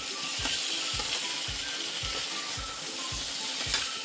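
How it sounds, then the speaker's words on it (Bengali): Potatoes with spices sizzle in a pan for a vegetarian dum aloo, a steady close frying hiss broken by regular scraping stirs about twice a second. "এখানে একটু কষিয়ে নিতে হবে। ভালোভাবে মিশিয়ে নিতে হবে আলুটার সাথে।"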